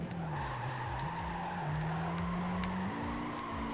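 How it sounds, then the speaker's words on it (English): In the video game Gran Turismo 5, a car's tires squeal under a steady engine drone, the shrill tone continuous and shifting in pitch through tight turns, loud and close with no talking. "And my tires squealing like a bitch."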